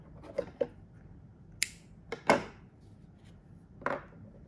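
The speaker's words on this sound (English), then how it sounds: "And then cut the yarn." Scissors snip through yarn in a few quiet, sharp cuts spread over several seconds, close and faint, with no one talking.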